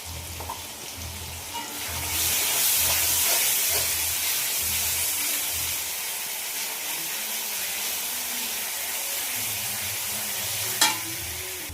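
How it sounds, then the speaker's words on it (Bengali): Onion frying in a pan with garlic and ginger-cumin paste, a steady loud sizzle and hiss with rhythmic scraping stirs throughout, no talk. "পেঁয়াজটা ভাজা ভাজা হয়ে গেছে"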